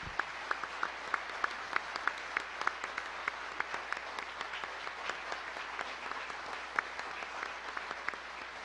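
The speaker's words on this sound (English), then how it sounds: "a warm applause of appreciation to Mrs. Harriet Mayer Fulbright" A crowd claps in sustained applause at a gala banquet, many hands at a steady, even pace, heard from a moderate distance in a large room.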